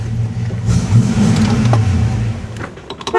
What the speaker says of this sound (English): Just a little burnout here.